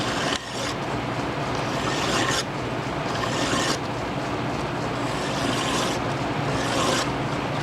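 A mill bit is ground on a sharpener to put a slight taper on it, giving a steady, close rasping grind in a few strokes separated by short breaks.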